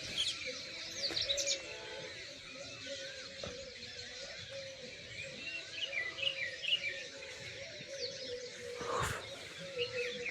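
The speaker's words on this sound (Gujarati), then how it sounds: "પક્ષી જેવો બોલો છે" Birds chirp and call in a village at six in the morning, heard from a rooftop: faint, scattered tweets against a quiet background, with a louder burst near the end.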